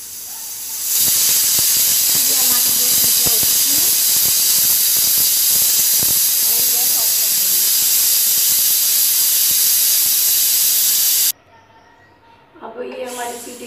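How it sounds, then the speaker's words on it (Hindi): A loud, sustained hiss of steam jets from a pressure cooker whistle while cooking khichdi, lasting about ten seconds, then stops sharply, followed by faint rattling and a brief voice. "सीटी निकल गई है, अब हम इसे"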